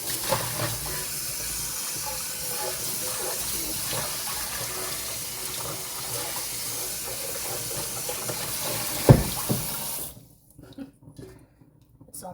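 A kitchen tap runs hard while a pan is washed in the sink, a dense steady hiss with a sharp clunk near the end before the water shuts off, leaving faint handling noises.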